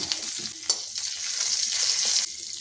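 Black mustard seeds, a broken green chilli and a little turmeric sizzle in hot oil in a wok. The steady, close frying hiss builds briefly and stops abruptly near the end, with no talking.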